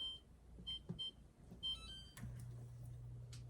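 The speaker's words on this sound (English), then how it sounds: "I'm going to set my timer" A kitchen timer is set on a stovetop while cooking gnocchi, giving a few short, faint beeps and clicks, followed by a steady low hum.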